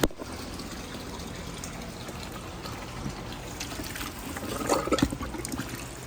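Water is poured into a 500-gallon outdoor pool pond holding a goldfish, a soft, faint trickle and splash that swells into a louder gush near the end.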